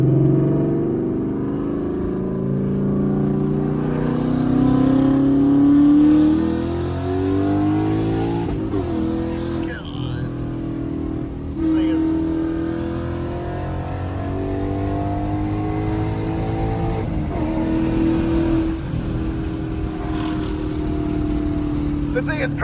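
A loud C5 Corvette driving and accelerating, its deep engine drone rising and falling through gear changes and revs, steady and close throughout with no talking.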